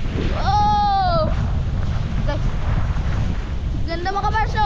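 Steady wind blows at a seaside spot, with broad rushing noise buffeting the microphone throughout and voices speaking over it.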